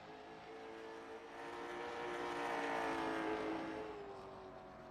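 Late model race cars at Langley Speedway drone past on the oval, a steady engine roar that swells as the pack nears, peaks, then fades slightly, with no talk.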